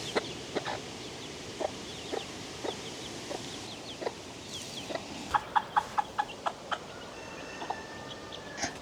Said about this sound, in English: We do have quite a few roosters in that flock.